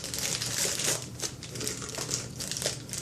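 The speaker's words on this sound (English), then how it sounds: "we're going to use a Ziploc bag" A plastic Ziploc bag crinkles steadily for about three seconds as it is rolled down over the sides of a tall glass while cookie icing is prepared, a close, continuous crackly rustle with no talking.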